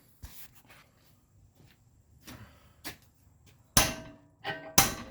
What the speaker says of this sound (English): My wife is going to video me as I beat this thing out.